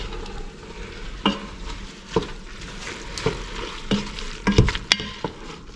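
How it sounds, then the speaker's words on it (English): Chili meat with cayenne pepper, garlic, salt and pepper being stirred in a pot, irregular scraping strokes and clanks over a steady low sizzle, close by, no speech. "Stir that well."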